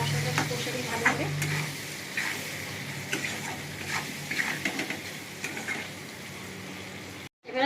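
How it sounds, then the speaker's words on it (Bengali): Spice paste for a fish curry with potato and eggplant is stirred and fried in a pan, with steady sizzling and repeated scraping strokes of the spoon running throughout, close and clear, ending abruptly. "মশলাটা কষে দিই ভালোভাবে।"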